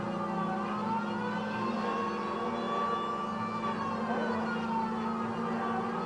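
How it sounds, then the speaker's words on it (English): A police car siren in the video game L.A. Noire wails steadily over a constant engine drone, continuous and loud throughout, with no talking. "driving with the siren on"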